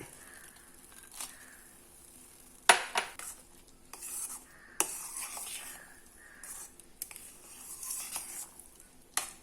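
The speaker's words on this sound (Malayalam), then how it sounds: "ഇനി ഇതിനകത്തേക്ക് നമുക്ക് വറുത്ത് വെച്ചിരിക്കുന്ന കിസ്മിസും അണ്ടിപ്പരിപ്പും എല്ലാം ഇടാം" Fried raisins and cashews tumble into thick banana halwa in a pan and are stirred through. Sharp metal clinks and scraping stirs come in uneven bursts over a soft background sizzle, close and fairly quiet, with no talk.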